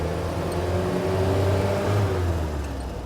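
The engine of a military Land Rover drones steadily and loudly from close by while the driver works through the gears, the pitch shifting slightly with the changes, and no voices are heard.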